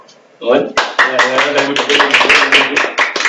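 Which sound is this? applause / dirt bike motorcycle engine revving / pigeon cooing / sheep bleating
applause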